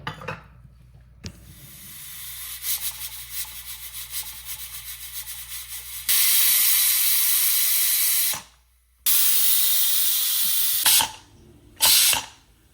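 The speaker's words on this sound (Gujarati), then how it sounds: "હવે આપણે કુકર બંધ કરી અને 2 સીટી થવા દઈશું" Pressure cooker on a home kitchen stove cooking kansar, a sweet wheat dish, giving loud hissing whistle blasts of escaping steam, with a long sustained burst, a pause, then further shorter bursts.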